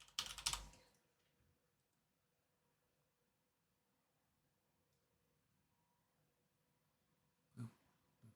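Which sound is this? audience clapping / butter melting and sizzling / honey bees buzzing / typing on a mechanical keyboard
typing on a mechanical keyboard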